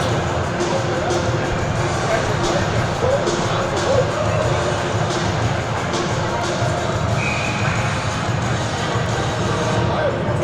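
A crowd at a high school hockey game reacts in a steady, fairly loud murmur and rumble throughout, mixed with background noise and talking.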